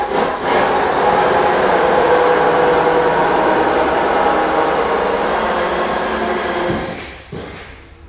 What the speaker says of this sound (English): once the hole saw contacts the wall, switch your drill, run it backwards, and this will cause it to cut a smoother hole into this thinner paneling